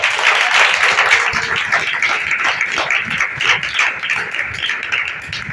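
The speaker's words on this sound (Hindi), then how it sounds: "तो जोर से ताली बजाए प्रभु को।" A church congregation claps loudly and continuously during a Hindi worship teaching, a dense, sustained wash of hand claps with no pause throughout.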